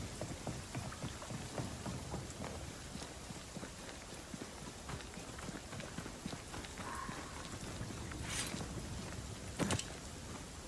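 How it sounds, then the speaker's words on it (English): Steady rain falls in the video game Banishers: Ghosts of New Eden, a dense continuous patter with soft hoof-like clops and a few brief sharper sounds, no talk. "Oh yeah, it's very rainy here."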